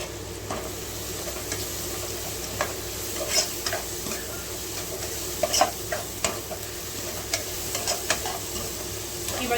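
Garam masala and chili powder fry for egg rice in a steady sizzle, with repeated clinking stirs of a spoon against the pan scattered across the clip.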